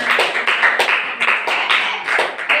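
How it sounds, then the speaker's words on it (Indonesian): A primary school class claps for a classmate in quick rhythmic bursts of group clapping, fairly close and lively, repeating in uneven waves. "Tepuk tangan untuk Sabrina."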